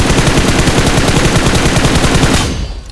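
Loud, rapid automatic gunfire in the mobile battle-royale game BGMI (PUBG Mobile) hammers in a continuous burst for about two and a half seconds, then tails off.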